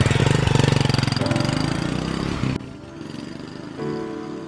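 A motorbike engine running close by, loud rhythmic chugging that drops suddenly partway through to a quieter idle with a low hum.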